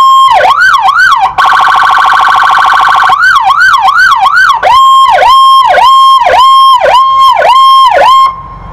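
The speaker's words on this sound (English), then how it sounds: "Whelen 295 sirens are programmable units with about 16 or 17 different siren tones" A Whelen 295 programmable siren on a fire department car runs through a rapid whoop tone, briefly shifts to a steady high wail, then returns to repeated rising whoops, loud and close with no voices.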